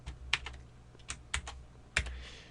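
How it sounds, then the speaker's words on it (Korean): Several quiet, close keyboard key presses sound as sharp, separate taps, about five in a couple of seconds, while shortcut keys are pressed in image-editing software. "여기 L, L 단축키 L을 누르고"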